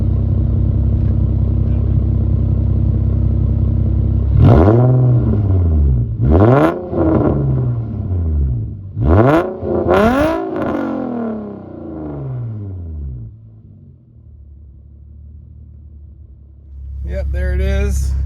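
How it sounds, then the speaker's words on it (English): Engine revving on a 2008 Infiniti G35 fitted with new exhaust gaskets: a steady idle rumble, then four or five sharp rising revs in quick succession that settle back to idle, with a brief flare near the end. "Couple revs for you guys."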